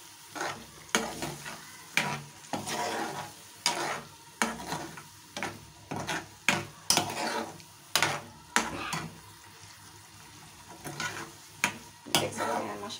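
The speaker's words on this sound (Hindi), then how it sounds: "इन दोनों चीज़ों को मैं फिर अच्छे से भून लेती हूँ" Peas and vegetables fry in a pan, a steady close sizzle broken by repeated scraping stirs of a spatula at an irregular rhythm, with no talking.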